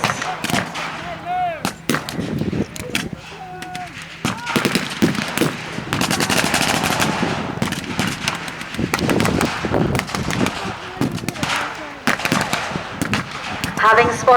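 A World War II battle scene carries repeated machine gun bursts and scattered gunshots, some sharp and close, others more distant, with loud rumbling explosions throughout.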